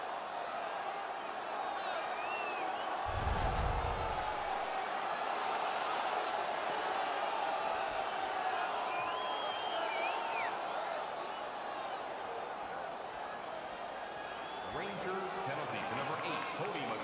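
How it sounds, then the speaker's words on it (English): In the NHL 19 video game, a hockey arena crowd roars steadily after a fight, forming a sustained wash of cheering under a commentator's voice, with a brief low thump partway through. "The crowd is so pumped right now."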